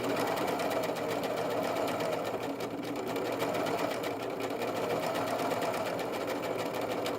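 A serger sewing machine runs steadily, overlocking the curved edge of a fabric sample in one continuous, loud, even whir with no pauses or talk.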